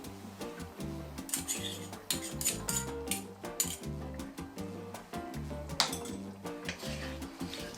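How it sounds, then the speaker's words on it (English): Beef rendang with coconut milk, tamarind sauce and salt stirred in a pot: a rapid, continuous run of metal spoon scrapes and clinks against the pot, close and fairly loud, with no voices. "Stir all the mixture together until the coconut milk starts to boil."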